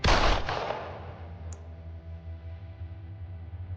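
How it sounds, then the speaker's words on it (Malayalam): A single loud, close gunshot from the 2007 horror film Black Devil Doll, fired at a possessed doll, bursts sharply then decays into a low lingering rumble. "ഹിദർ കയ്യിൽ ഉണ്ടായിരുന്ന തോക്ക് ഉപയോഗിച്ച് ആ പാവയെ കൊല്ലുന്നു"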